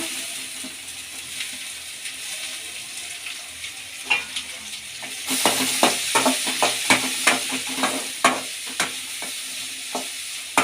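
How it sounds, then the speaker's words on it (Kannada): Onions sizzle in hot oil in a pan with ginger and garlic for a restaurant-style soya chunks gravy, soft frying at first, then louder crackling with repeated scraping stirs from about five seconds on. "ಫ್ರೈ ಮಾಡೋಣ ಈಗ ಈರುಳ್ಳಿ ಹಾಕೊಳ್ಳೋಣ"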